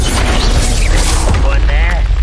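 Confringo fire spell explosion in the Hogwarts Legacy video game, a loud booming burst layered into a continuous roar of combat sound effects with crackling and rumbling throughout.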